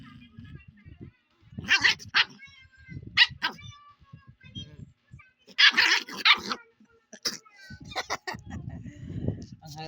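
A dog barks in several sharp bursts spread across the scene, mixed with loud speech and other household noise nearby.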